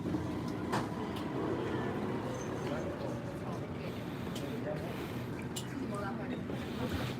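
Metro train stopped at Bang Pho station in Bangkok, a steady rumble of the carriage and station ambience running throughout, with people talking over it.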